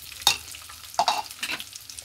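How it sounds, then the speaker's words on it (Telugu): Spices fry lightly in hot oil in a pan for pulihora, with soft crackling sizzle and three distinct stirring scrapes at near-even intervals, close and fairly quiet, with no talk. "కొంచెం లైట్గా నూనె వేడిగానే ఉంటుంది కాబట్టి కొద్దిగా లైట్గా వేపుకోవాలి, అడుగంటకుండా"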